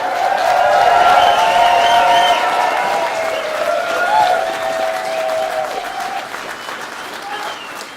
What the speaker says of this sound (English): we need one more round of applause for Matt